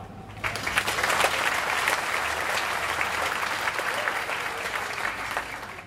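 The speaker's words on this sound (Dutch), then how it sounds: "Mag ik een groot applaus voor onze DJ Bram?" A festival crowd on the square applauds their DJ, Bram, in a burst of clapping that rises quickly and holds steady and full for several seconds.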